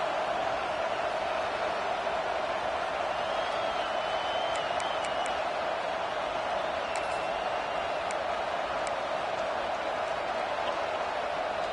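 Penn State college football stadium crowd: a dense, constant roar of thousands of fans, with occasional whistles and shouts rising above it.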